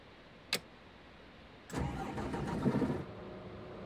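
A bus engine cranking and catching in the driving game The Bus: a brief click, then a starter whir that settles into a steady mid-pitched idle for over a second before cutting off, clear and close with no talk.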